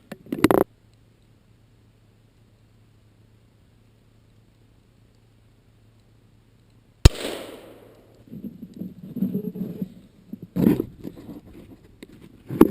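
Pistol shots from a 9mm striking a steel plate during a DIY spall test outdoors: one sharp loud crack, then a few more impacts and clatter, with quiet before.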